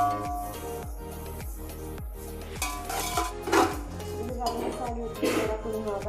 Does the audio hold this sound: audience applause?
no